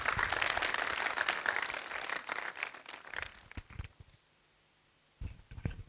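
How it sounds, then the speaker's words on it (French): Audience applause in a hall as a speaker is invited up for a short talk, dense clapping for about four seconds before it dies away, then a few scattered claps and sounds after a brief lull. "et sous vos applaudissements."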